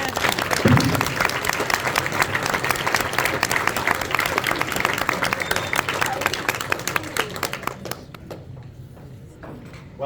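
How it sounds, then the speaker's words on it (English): A wrestling banquet audience applauding their seniors, a thick, sustained round of many hands clapping, close and loud, that carries on for several seconds before thinning out and fading near the end. "Another round of applause for our seniors"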